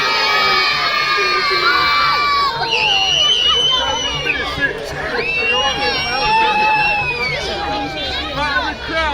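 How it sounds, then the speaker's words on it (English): A festival crowd of children shouts and cheers loudly and continuously, with high excited voices rising into whoops and screams throughout, close and dense. "Right in the crowd, you're going to cheer for the boys and girls."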